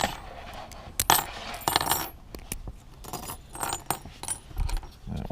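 Old flat keys jangle and clink as a handful is sorted and shuffled outdoors, bright metallic rattles coming in bursts with brief pauses between, close and moderately loud.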